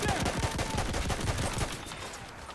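Machine gun fire in a First World War shooter game, a rapid continuous burst of dense cracking shots that rattles loudly for about two seconds before easing into a fainter tail.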